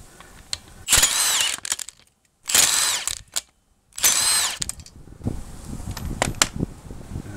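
An impact wrench with a 22 mm socket works on the alternator pulley of a 2001 Toyota Avalon during alternator replacement, three sharp bursts of rapid hammering separated by pauses, followed by lighter clatter and handling noise.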